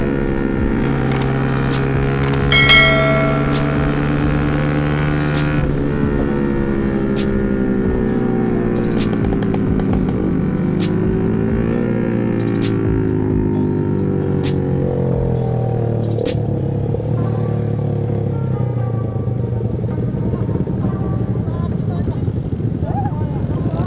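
Motorcycles speed along on a night ride, their engines droning loudly and shifting in pitch as they rev up and ease off, with voices talking over the roar.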